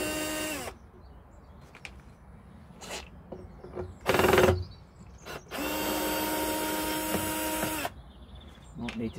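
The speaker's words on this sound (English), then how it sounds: "This drill's coming in useful" A power drill whirs in short bursts, then runs in one longer steady stretch, with quieter handling noise between runs.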